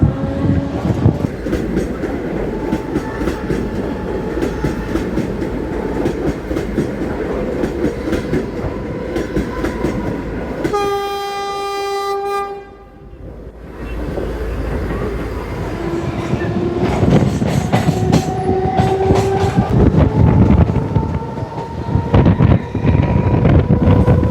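A Mumbai fast local train on the Central line runs from Kalyan toward CSMT with a loud, steady rumble, rail clatter and wind buffeting; a brief tonal blast cuts through midway before the running noise resumes.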